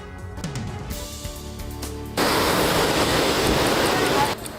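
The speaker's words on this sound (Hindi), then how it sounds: "जहां पहाड़ों से नीचे आ रहा पानी अपने साथ भारी मात्रा में मिट्टी और बड़े बड़े पत्थर भी बहा कर ला रहा है" Floodwater rushing down from the mountains at Haldwani, Uttarakhand, carrying heavy mud and large stones after continuous rain, becomes a loud, dense roar that begins abruptly partway in and holds steady, preceded by quieter mixed sounds.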